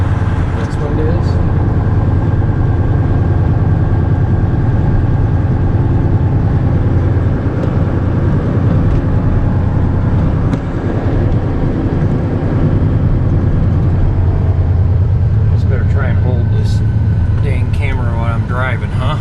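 A vehicle driving on a road on a snowy winter morning, heading to the dump: a loud, steady engine and road rumble fills the whole stretch, with brief higher squeaks near the end.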